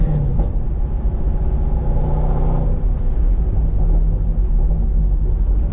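A C6 Corvette with an MGW short throw shifter cruises along, its engine giving a steady, loud, low rumble heard from inside the cabin, with no talking.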